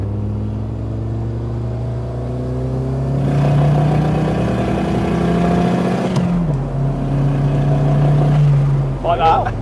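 A turbocharged BMW 2002 engine with a screamer pipe revs and roars nearby, rumbling low with a high whining scream rising over it; voices murmur faintly beneath.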